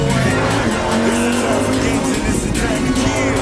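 A Lamborghini engine revs hard in sport mode, a loud, dense, continuous roar with strong low rumble and rasping harmonics, close and sustained throughout.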